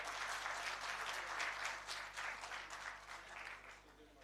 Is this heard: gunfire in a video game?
no